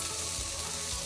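Ham, broccoli and carrots stir-frying in a pan for fried rice give off a steady, loud, close sizzle that holds without a break.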